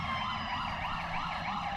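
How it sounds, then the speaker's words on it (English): Wailing emergency vehicle sirens in a parade, rising and falling in a steady cycle, loud and continuous over low traffic rumble. "Talk about those sirens."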